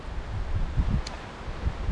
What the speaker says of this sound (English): It's just constantly windy.